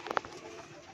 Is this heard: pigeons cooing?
yes